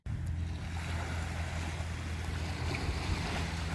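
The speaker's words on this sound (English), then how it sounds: "I could hear the waves from the trail, and they were calling to us." Waves lapping at a river shore on a rainy day, a low steady wash with faint wind noise, moderately close and continuous without any talking.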